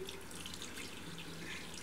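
Water runs from a tap at home, a faint, steady hiss with small splashy bursts over a couple of seconds.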